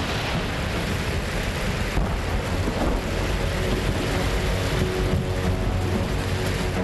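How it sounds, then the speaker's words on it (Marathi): Heavy cloudburst-like rain pours down in Latur district, a dense, loud, unbroken roar of rainfall with low rumbling beneath it, close and continuous throughout. "लातूर जिल्ह्यात ढगफुटी सदृश्य पाऊस झाला"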